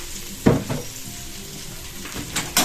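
Light sizzle of a small amount of oil in a pan on medium heat, a steady faint crackle broken by a few sharper bursts as food is stirred or moved, close by with no talking.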